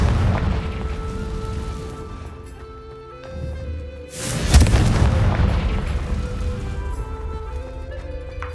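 A deep booming blast from the Confringo fire spell in Hogwarts Legacy, a single loud burst that rolls out into a rumbling decay over a steady game ambience and music.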